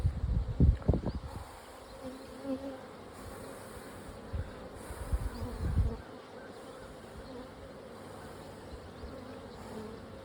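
Honeybees hum steadily at a hive, a dense buzzing drone interrupted by a few loud puffs of breath near the microphone.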